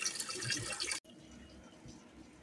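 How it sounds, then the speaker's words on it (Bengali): Rice rinsed with running water in a home kitchen, a steady splashing, trickling wash for about a second before cutting to quieter background noise. "আর এদিকে চালটা ধুয়ে নিই, চালটা ধুয়ে আর দেবো।"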